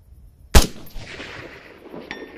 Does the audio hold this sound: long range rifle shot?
yes